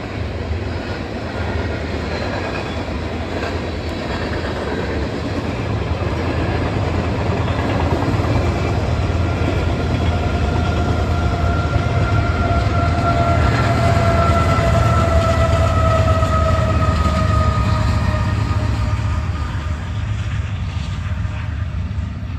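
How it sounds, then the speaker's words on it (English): Union Pacific locomotives hauling a loaded coal drag, likely out of Wyoming, rumble past near Caddo Lake on the Shreveport line, a steady loud roar of engines and rolling cars with tonal horn-like lines building and fading over the passage. "is a coal drag that likely originated in Wyoming, and all this train's engines were Union Pacific"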